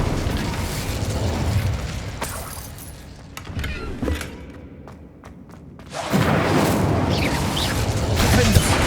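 Incendio fire spell cast in Hogwarts Legacy, a whooshing burst followed by crackling flames, loud and close, with a quieter lull midway before a second roaring blast of fire.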